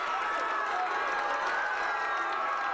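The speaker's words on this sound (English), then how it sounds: "Crowd making some noise." Friday night high school football playoff crowd at Pine View roars steadily from the stands, a continuous wash of cheering and shouting voices from a distance with no distinct break.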